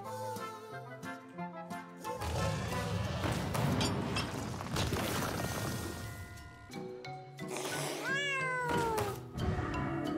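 Cat meowing in the card game Hearthstone, several drawn-out meows with rising and falling pitch near the end, over busy game music and effects.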